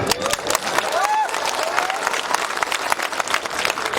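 A crowd at an outdoor political rally claps in dense, continuous applause, with a voice and cheers rising over it.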